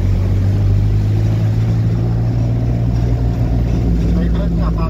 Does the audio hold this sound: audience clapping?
no